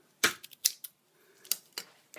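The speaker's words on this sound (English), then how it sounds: "I'm just going to cut them in half." Sterilized scissors snip through 3M steri-strip adhesive wound closures, cutting them in half: a handful of crisp, close clicks and snips spaced irregularly against near silence.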